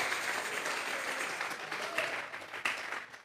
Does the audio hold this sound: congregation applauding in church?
yes